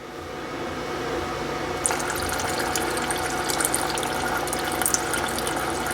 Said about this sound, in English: you can let it run until clean brake fluid comes out too